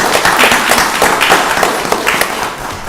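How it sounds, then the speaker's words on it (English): A round of applause fills a county board of commissioners meeting, a dense steady clapping from many hands across the room, sustained for the whole stretch at fairly high level. "Let's give him a round of applause."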